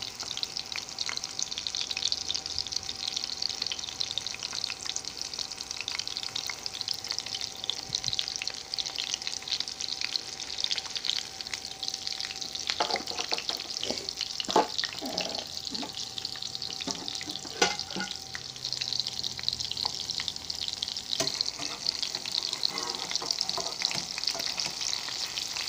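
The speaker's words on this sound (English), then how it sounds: "You basically cook these patties like you would a hamburger." Salisbury steak patties fry in a pan with a steady, continuous sizzle, and a few louder scrapes and pops stand out midway through.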